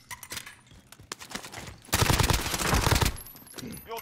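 A video game firefight in an office building, with scattered single shots followed by a dense, loud burst of rapid automatic fire that lasts about a second before tapering off.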